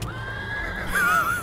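A horse in the game Starbound gives a loud, close, wavering neigh lasting about half a second, with a brief clip-clop of hooves underneath.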